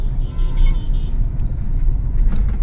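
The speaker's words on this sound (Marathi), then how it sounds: "ट्रॅफिक ट्रॅफिक ट्रॅफिक जाऊ दे मला." Road traffic passes close by with car engines rumbling and short horn toots cutting through the noise, steady and loud, with no talk over it.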